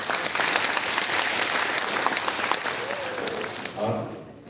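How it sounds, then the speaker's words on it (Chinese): Congregation applauding during a Christmas praise worship service in a church, sustained dense clapping at steady loudness that thins and fades near the end as a voice briefly comes in. "我们将再次掌声荣耀归给神"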